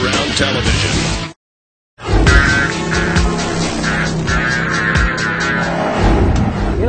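A 2008 Dodge Viper SRT10 sports car drives with a loud, steady engine roar, briefly cut to silence before the roar resumes and holds strongly to the end.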